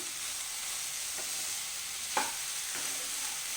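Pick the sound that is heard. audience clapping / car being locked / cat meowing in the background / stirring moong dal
stirring moong dal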